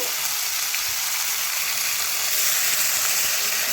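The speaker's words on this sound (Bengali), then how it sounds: "এবার কড়াইয়ের মধ্যে আমার ভাজা মাছের তেলটা ছিল তার মধ্যেই এই মাছগুলো সব আমি ঢেলে দেবো" Raw ar fish poured into hot oil in a wok, a loud, dense, steady sizzle close up with no talk.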